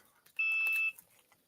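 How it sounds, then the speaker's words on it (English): An electronic device gives a single clear, steady high-pitched beep lasting about half a second in an otherwise quiet room. "I hear ya beep beeping."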